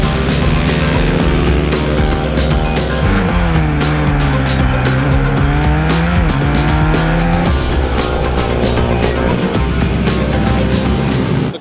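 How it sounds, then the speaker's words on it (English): Pit bikes racing round a track during qualifying for a mini bike endurance race, a loud continuous blend of buzzing engines rising and falling in pitch as they whizz past. "You can probably hear the bikes whizzing around behind me"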